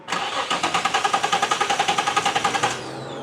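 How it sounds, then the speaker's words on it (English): A car engine cranks in a rapid, even rhythm of about twenty pulses for a few seconds without catching, then stops, close and clear with no voices. "attempting to start his car"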